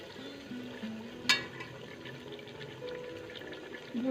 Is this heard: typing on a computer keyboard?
no